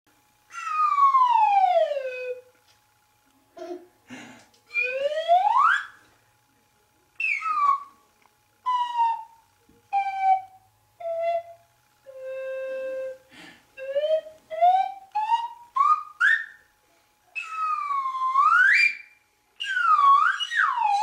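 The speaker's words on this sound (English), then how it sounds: "you need to follow my slide whistle" A slide whistle plays a long series of swooping glides, rising and falling notes with short pauses between phrases, loud and close.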